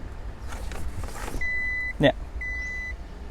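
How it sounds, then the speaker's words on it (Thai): An Isuzu Cab4 1.9 with a six-speed manual gearbox shifted into reverse, followed by two evenly spaced electronic reversing beeps with a brief thunk between them, heard inside the cab over a low engine rumble. "เวลาจะเข้าเกียร์ถอยหลังตรงนี้ตัวนี้ ปั๊บนี่เด้อ"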